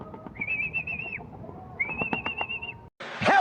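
Pigeons in a loft: soft cooing and bird calls over gentle rustling, cut by sharp rising whistles and a brief scuffle of handling near the end.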